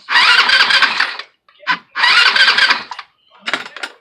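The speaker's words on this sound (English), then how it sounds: "when I sit down and turn the ignition and stuff on" A small, cheap homemade bug-out ride with its starter relocated under the seat cranks over loudly in two long bursts, followed by a few short sputtering catches as the engine tries to fire.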